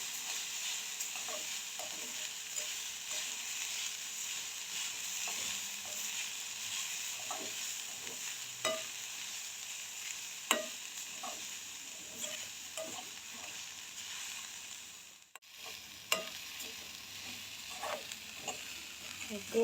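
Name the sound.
stirring beetroot and coconut sautéing in ghee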